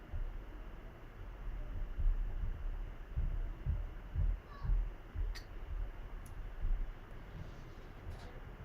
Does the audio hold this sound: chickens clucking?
no